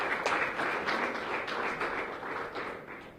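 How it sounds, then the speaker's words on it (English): Audience at the launch of a charter council applauding its appointed members, a steady crowd clapping that swells and thins slightly over a few seconds, heard close and without talk. "I think you should give yourself a round of applause once again"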